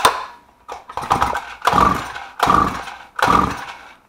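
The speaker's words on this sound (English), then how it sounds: "you gotta be careful with this because the engine will actually start" Small 52cc Tanaka-clone weed whacker two-stroke engine sputtering on starter fluid, with four loud, rough bursts that each fire briefly and die away, separated by short pauses.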